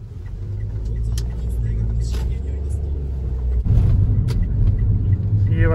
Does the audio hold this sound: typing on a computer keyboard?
no